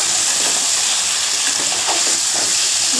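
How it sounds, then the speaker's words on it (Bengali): Cut potatoes fry in a pan of hot oil for a mutton curry, a loud, dense and continuous sizzle that stays steady throughout with nobody talking. "মাংসের জন্য আলুগুলোকে এখানে ভেজে নিচ্ছি।"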